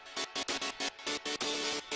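A polyphonic super saw synth plays alone in short rhythmic chord stabs, bright and full, gated into choppy bursts with brief gaps and one longer held chord near the end.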